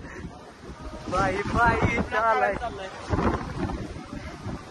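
Strong wind buffets the microphone at a hillside temple setting, a steady roaring rumble that swells and gusts, with a person talking loudly over it.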